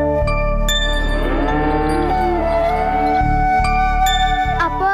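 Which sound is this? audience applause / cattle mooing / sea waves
cattle mooing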